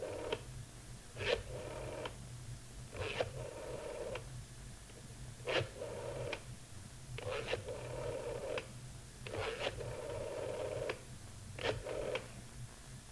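A telephone number is dialed, a slow run of separate keypad tones, roughly eight beeps spaced about a second or two apart over a faint steady hum, with no voices.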